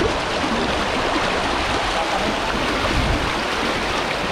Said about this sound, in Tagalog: Malakas ang agos dito.